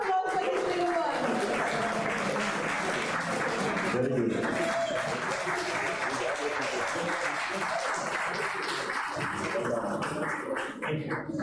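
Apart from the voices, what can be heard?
audience applause for a child prize winner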